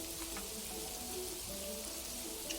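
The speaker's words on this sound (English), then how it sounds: "Now, rain in the game" Steady rain falls in the video game Kingdoms and Castles, an even wash of patter with soft game music tones running underneath and no talk.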